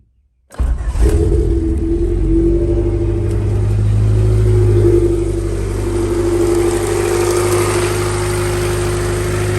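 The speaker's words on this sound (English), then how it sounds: "we're gonna cold start it" A Honda D-series engine fitted with a Skunk2 intake manifold and cold air intake cold-starts after a brief silence, catching at once and settling into a loud, steady, slightly uneven high idle that runs alone throughout.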